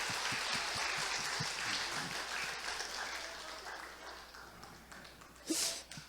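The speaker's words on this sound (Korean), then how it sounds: "우리가 하나님께 오늘 또 큰 영광의 박수 올려드리겠습니다." A church congregation claps together at a moderate distance, a sustained spread of applause that thins out, with a louder burst of clapping and cheer near the end.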